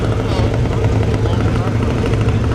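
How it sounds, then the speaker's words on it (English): A junior dragster engine runs steadily at a drag strip, a loud continuous motor drone with a low rumble that holds for the whole stretch and is mixed with background voices. "I hear Sedona fired up in the Junior Dragster."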